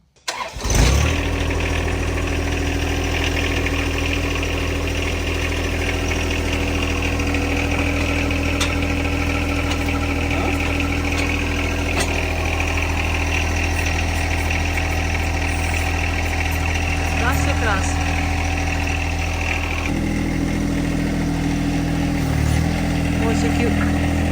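A tractor engine fires up and settles into a steady, loud idle with a throbbing low rumble that carries on for over twenty seconds, its tone shifting slightly partway through.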